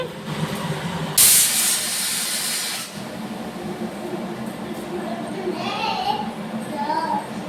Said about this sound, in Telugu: విజిల్ అయితే వచ్చింది కదా